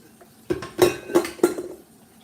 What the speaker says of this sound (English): let me put my bowl in here